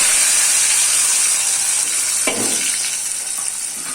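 Tomato, curry leaves, onion and chopped chillies fry in hot oil for upma, making a loud, continuous close sizzle and hiss with a brief stirring rustle partway through.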